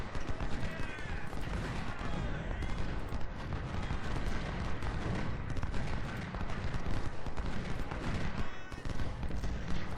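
Artillery and massed gunfire from the Civil War strategy game Ultimate General: Civil War form a dense, continuous rumble of booms and crackling volleys, loud and unbroken throughout.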